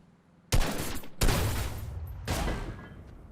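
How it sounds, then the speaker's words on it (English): Gunfire in Fortnite aimed at a loot carrier: three loud bursts of shots, each starting abruptly and then tailing off, with short gaps between them and no voices. "So I'm going to try shooting one down now."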